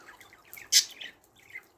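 Pet budgerigars housed outside in snowy winter weather call with one loud, piercing chirp close by, framed by faint twittering before and after.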